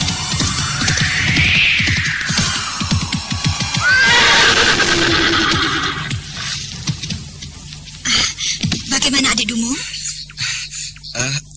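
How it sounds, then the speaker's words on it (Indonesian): A horse whinnies loudly and close by, a shrill rising-and-falling neigh, followed by further snorts and noise with a voice speaking over parts of it. "Luar biasa sekali kuda ini."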